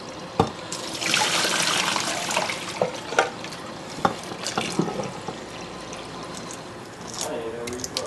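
Cold tap water runs steadily into a pot of boiled eggs in a kitchen sink, a continuous splashing hiss with a few clinks and knocks, fairly close.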